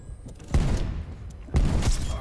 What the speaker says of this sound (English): hand cannon time